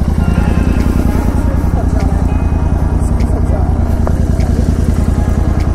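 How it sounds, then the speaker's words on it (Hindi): Motorcycle engine, a KTM Duke 250 or Royal Enfield GT650 with a modified exhaust, rumbling and idling loud and close with a steady throbbing pulse, a voice faintly underneath. "बाकी मैं आपको इस बाइक की आवाज़ एक बार सुनाता हूँ दोबारा से, जो कि बहुत तगड़ी है।"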